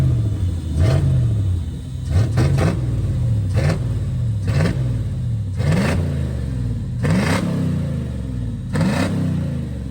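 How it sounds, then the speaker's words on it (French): Jeep CJ trial 4x4 with a 6-litre V8 and custom stainless exhaust, idling with a deep rumble on a dyno and blipped repeatedly in about eight sharp, loud revs. "Et pour laisser ronfler et respirer ce V8, on retrouve une ligne d'échappement en inox totalement custom"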